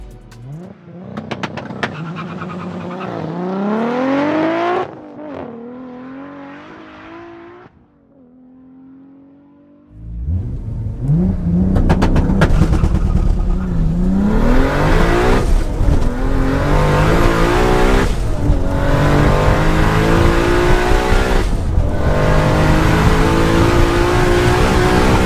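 Toyota Supra tearing down a quarter-mile drag run, the engine revving hard through rising gear pulls with brief breaks at each shift, loud and close, the roar staying sustained after a short lull.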